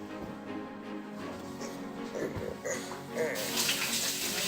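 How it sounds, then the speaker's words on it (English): Tap water runs steadily while hands are washed at a kitchen sink, a continuous close splashing stream that grows louder and brighter toward the end, with no voices. "Wash my hand first."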